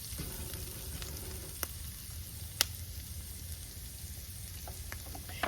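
Beef short ribs fry in a pan with a steady, close sizzle. A couple of sharp pops and clinks cut through it.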